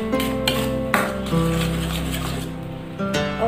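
A utensil scrapes and scoops through thick, cooked, chewy sago pudding in a pot, giving several clinks and knocks against the metal over a low steady hum.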